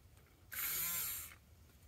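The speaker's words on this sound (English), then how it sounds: "I'm actually going to get my little blender here and whisk it just to pick up some of that titanium dioxide" A small handheld blender whisks titanium dioxide into soap oils for cold-process soap, one bright whirring burst under a second long that starts abruptly and then fades out in a quiet room.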